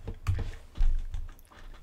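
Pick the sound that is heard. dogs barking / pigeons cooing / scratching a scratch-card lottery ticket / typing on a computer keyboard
typing on a computer keyboard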